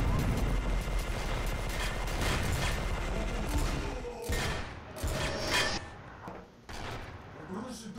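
Gunfire aimed at the player in the shooter game E.Y.E: Divine Cybermancy, dense loud crackling bursts and thumps that thin into scattered shots, with people talking over the game.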